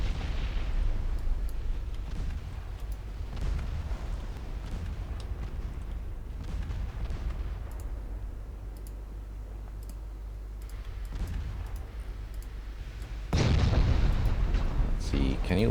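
Naval battle in a warship strategy game, with distant booms, rumbling gunfire and crackling fire aboard the warship Barfleur, a steady low roar that swells louder near the end, a voice talking over it.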